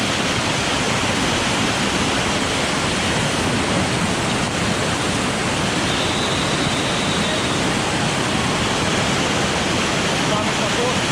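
The rushing water of a waterfall stream in Jamaica roars loud and constant from very close, a dense unbroken wash of noise with no break.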